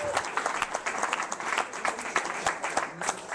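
An audience claps and applauds at a live concert, a dense, steady burst of clapping for a few seconds with a faint voice or crowd murmur underneath.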